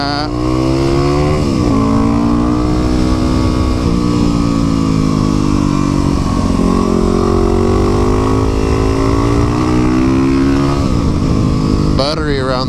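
A supermoto motorcycle revs hard through a run of corners, its engine note rising and falling in sweeping arcs with shifts, loud and close, and a rider's voice comes through over the engine.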